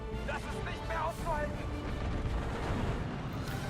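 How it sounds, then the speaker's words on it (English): Artillery fire in the World War II strategy game Steel Division: Normandy 44, shelling a Pak 40 anti-tank gun in trees on a ridge. Dense, continuous rumbling blasts merge into a steady roar, with faint whistling tones early on. "The Pak 40 that's in the trees on the ridge on the right hand side comes under artillery fire"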